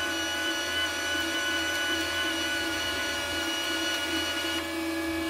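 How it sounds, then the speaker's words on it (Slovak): A Parkside PMSG 200A1 MIG welder's wire feed spool motor runs at higher speed, a steady loud mechanical whine and hum with constant tonal buzz throughout, no talking. "Zváračka, ak zistí, že sa nezvára, zrýchli cievku na vyššiu rýchlosť, aby vám pretlačilo drôt cez horák."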